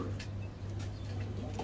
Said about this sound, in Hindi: ये कालसिरे टैडी कबूतर है